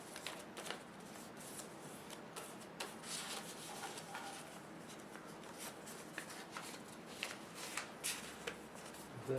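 Sheets of paper being creased and folded into a bird boomerang, a quiet stream of crinkling, rubbing and light crisp scrapes close up, continuous with small sharper rustles throughout.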